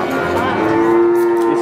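A jumbo Pegon cow at a cattle market in Pati gives one loud, close, drawn-out moo with a steady tone over faint market background.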